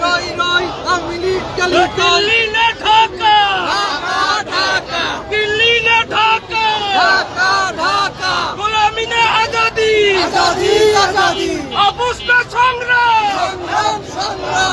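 Protesters on a march toward the Indian High Commission in Dhaka chant slogans in unison, a loud, dense crowd of voices rising and falling in rhythmic call-and-response, close by and continuous.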